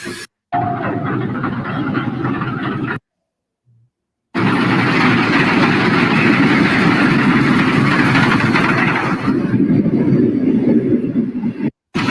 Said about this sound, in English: Modern train versus an old train.